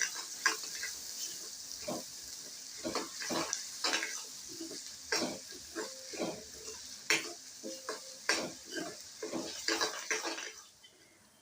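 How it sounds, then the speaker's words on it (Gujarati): Onions are stirred with salt in hot oil in a pan, bringing a steady soft sizzle under repeated scraping stirs, clear and close, with no talking. "હવે મીઠું નાખી અને આપણે બધું સરસ હલાવી અને ડુંગળી છે આછો ગુલાબી કલરની થાય ને ત્યાં સુધી આપણે એને સાતળી લઈશું તેલની અંદર"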